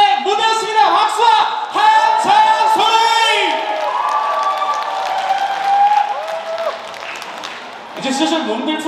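Applause and cheering from an outdoor trot concert crowd at the Danjong Cultural Festival closing concert on the Donggang riverside stage in Yeongwol, with loud voices and whoops riding over steady clapping.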